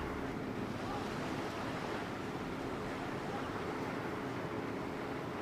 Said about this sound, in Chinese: 你看大海多美啊！